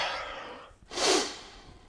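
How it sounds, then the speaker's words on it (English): One strong, breathy exhale or gasp follows a softer airy breath, close to the listener, as someone winded from a jogging workout catches their breath. "Breathing, breathing, breathing."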